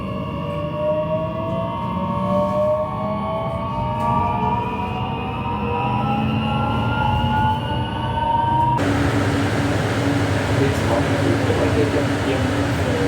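A Jakarta LRT light rail train rumbles along the track between Velodrome and Equestrian stations with rising whining motor tones and wheel noise, heard from inside the car.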